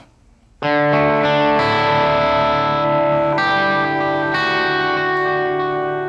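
An electric guitar strikes sustained chords that ring out loud and washed in lingering reverb, each new chord layering over the previous tail.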